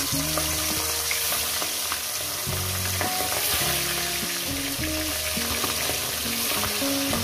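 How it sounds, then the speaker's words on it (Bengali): Fish heads frying in hot oil for a Bengali pui shak and pumpkin chorchori, a steady loud sizzle with scattered clinks and scrapes of a utensil against the pan throughout. "মাছের মাথাগুলো আমি এক এক করে দিয়ে দেবো।"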